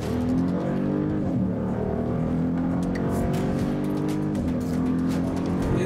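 A 2013 Jeep Grand Cherokee SRT8 with a 6.4-litre engine and eight-speed automatic launches hard on a quiet road, its loud engine rising and stepping through gear changes in one continuous, close-up surge.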